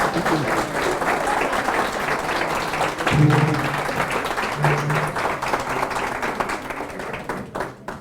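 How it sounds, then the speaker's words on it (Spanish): Loud applause from people gathered at a family court hearing, a dense, steady roar of clapping lasting about eight seconds before thinning out at the very end. "un fuerte aplauso para nosotros"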